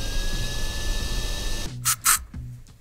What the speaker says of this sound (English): Okay, time to vacuum.